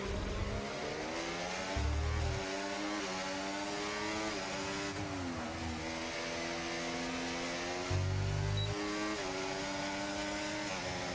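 A race car in a racing video game at the Netherlands circuit accelerates to overtake, its steady high engine whine rising and shifting in pitch over several seconds, with a few low rumbling bumps and no talk.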